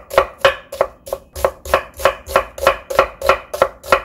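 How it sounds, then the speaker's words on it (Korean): Knife thinly slicing an onion on a cutting board for a Korean chive salad, a loud, close, steady series of about twelve evenly spaced chopping thuds with no talking. "양파 하나도 부추처럼 얇게 좀 이렇게 썰어주세요."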